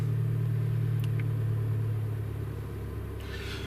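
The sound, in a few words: Land Rover Discovery Sport 2018 engine starting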